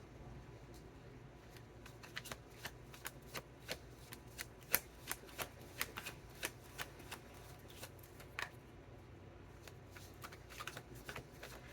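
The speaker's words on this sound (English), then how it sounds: "I'm going to pull some cards out from the Psychic Tarot for the Heart" Tarot deck from the Psychic Tarot for the Heart being shuffled and cards pulled, a quiet run of crisp, regular card flicks and slaps repeating close by.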